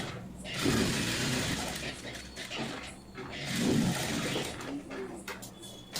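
A sewing machine whirs steadily while stitching the edge of a blouse, running continuously with slight surges in its rhythm.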